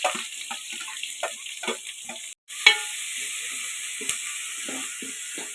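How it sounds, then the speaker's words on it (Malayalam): Green chilli, ginger and sliced onion sautéing in hot coconut oil with mustard seeds, a soft steady sizzle broken by repeated spatula scrapes and taps, close by, with one brief cut partway through. "പച്ചമുളക് ഇഞ്ചി സവാള അരിഞ്ഞത് കൊടുത്തിട്ടുണ്ട് അതിലൊന്ന് വഴറ്റിയെടുക്കാം"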